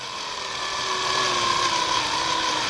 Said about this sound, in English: Now what I'm gonna do is take my cordless drill